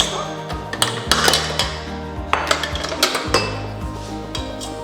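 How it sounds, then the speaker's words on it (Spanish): Whisking a bread dough batter of flour in a bowl: quick clinking strokes of metal against the bowl in uneven bursts, with clattering knocks and a low background hum. "Ok, vamos a batir esto."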